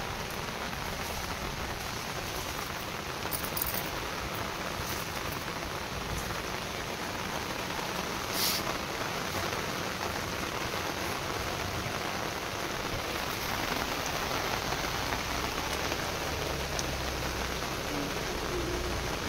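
Steady rain falls outdoors during a puja, a dense, even patter on surfaces that lasts throughout with no voices.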